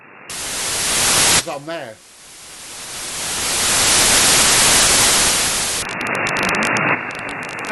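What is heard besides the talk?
radio static noise floor on Wellbrook loop antenna receiver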